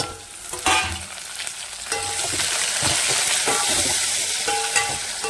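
Garlic, cumin, ginger and curry leaves sizzle in hot oil for a few seconds, a loud close crackling fry with stirring scrapes, swelling as fresh pieces hit the pan.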